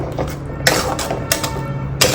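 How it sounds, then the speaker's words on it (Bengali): Spinach and coriander paste goes into a pan and gets stirred, with three distinct clanks of a utensil against the metal pan spaced evenly over a low kitchen hum. "এবার আমি যে পেস্ট বানিয়ে রেখেছিলাম তোমার পালং শাক আর ধনেপাতা দিয়ে, সে পেস্টটা ঢেলে দেবো, তারপরে আগে নাড়িয়ে দেবো"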